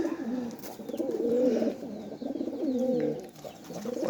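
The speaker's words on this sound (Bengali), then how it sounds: "এটা একটা নর কবুতর।" A male pigeon coos in a steady run of low, throaty, rolling notes, close and fairly loud, swelling and dipping over a few seconds with no voices.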